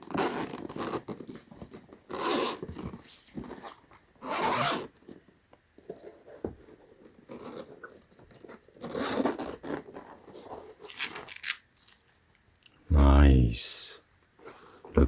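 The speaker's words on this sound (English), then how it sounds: "And here's a zipper." Zipper on a rubberized TPU carrying case for a TaoTronics percussion massage gun, pulled in several slow, rasping bursts close up, with quiet handling and crinkling between and a soft voice talking.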